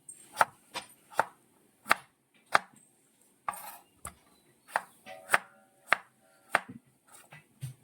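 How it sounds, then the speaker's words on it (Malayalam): Raw papaya chopped with a knife, for a Kerala curry with mango: about a dozen crisp, evenly spaced chops on a board, close and clear, with no talk. "ഈ വലുപ്പത്തിന് നമുക്ക് കട്ട് ചെയ്തെടുക്കാം"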